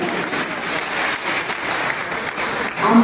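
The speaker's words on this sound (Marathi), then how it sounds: "त्यांच्यासाठी जोरदार टाळ्या झाल्या पाहिजे" A burst of crowd applause, dense and steady clapping for a few seconds, swelling slightly at the end.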